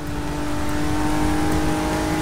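A 2017 Ford GT revs hard in a racing video game, its engine a loud, steady, sustained drone that holds without a break from start to finish.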